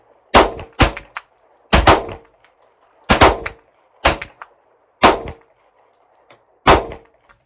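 A rifle fired at a target 100 yards away lets out seven sharp, loud cracks. The shots come at irregular intervals of about a second, each decaying quickly into quiet, with no talking.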